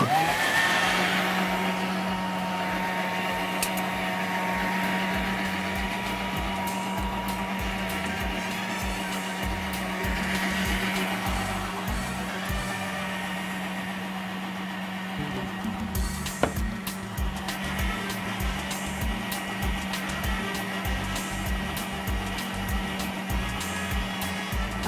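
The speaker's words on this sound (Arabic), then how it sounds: "هنضرب بقى في الخلاط" An electric blender whirs steadily while mixing marble cake batter, a loud continuous motor drone with a slight pitch shift partway through and faint rattling over the last stretch.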